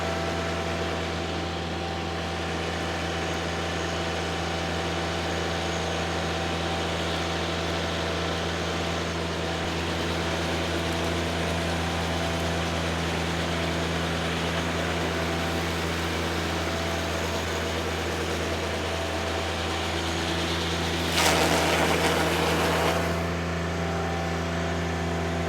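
A DR trimmer mower engine runs at a steady drone while mowing grass. It holds an even mechanical hum, with a short burst of harsher noise near the end.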